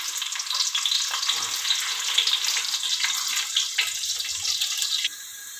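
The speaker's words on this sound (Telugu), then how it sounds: "ఆయిల్ బాగా హీట్ ఎక్కాక ఆనియన్స్ వేసుకోవాలి" Onions hit hot oil in a pan for kadai chicken curry, giving a bright, crackling hiss that stays steady and close, then drops to a quieter simmering sizzle near the end.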